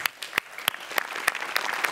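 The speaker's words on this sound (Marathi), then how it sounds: "आज त्यांच्यासाठी एकदा जोरदार टाळ्या" Audience applause at a Marathi comedy show, a steady burst of clapping from a crowd with sharper individual claps standing out, moderately loud and continuous, with no talk over it.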